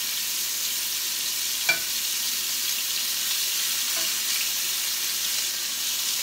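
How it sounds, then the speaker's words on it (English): Steady, loud sizzling of fajitas frying in a hot pan, a continuous hiss with a couple of faint clinks of utensils. "it's pretty noisy with all this sizzling going on"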